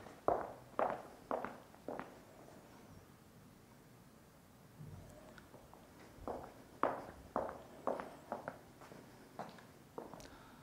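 A person walks across a theater stage, hard-soled steps ringing out clearly in the room, first in a quick run of several steps, then a pause with soft shuffling, then another steady series of footfalls, with no talk.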